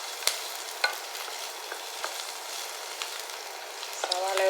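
Onion sautéing in a pan, a steady gentle sizzle punctuated by sharp spoon clicks and scrapes against the pan at irregular intervals.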